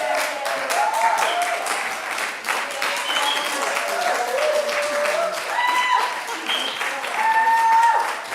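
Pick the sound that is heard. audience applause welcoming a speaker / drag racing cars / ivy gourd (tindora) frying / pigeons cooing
audience applause welcoming a speaker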